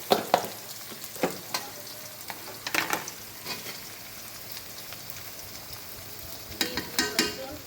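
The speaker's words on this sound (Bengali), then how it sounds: "তারপর দিব রসুন" Garlic hits a hot frying pan of goat head curry, giving a steady crackling sizzle with scattered sharper pops and stirring scrapes, fairly close and alone.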